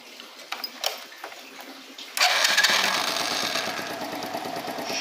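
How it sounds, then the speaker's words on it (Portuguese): Small motorcycle engine with a C6HSA spark plug, started and left at its standard idle, a steady close rattling putter running alone after a few faint clicks. "Vou mostrar aí a moto na lentazinha padrão."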